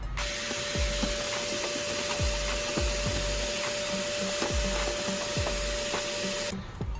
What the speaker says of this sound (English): Let me get my vacuum cleaner.